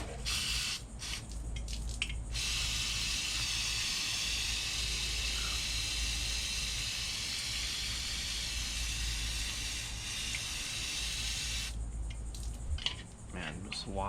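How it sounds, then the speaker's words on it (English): Brake cleaner sprays onto a varnished carburetor from a 1979 Datsun 210 in a steady, loud hiss that lasts several seconds, with short bursts and brief pauses near the beginning and end. "So I'm gonna go ahead and wash this thing with brake cleaner."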